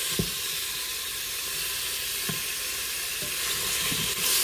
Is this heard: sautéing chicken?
yes